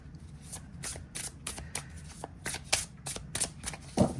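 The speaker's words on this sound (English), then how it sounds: "Let me shuffle this just a couple of times." A deck of stiff cardstock oracle cards is side-shuffled by hand, a series of crisp, close slapping riffs in an uneven rhythm, about a dozen quick strokes with no speech.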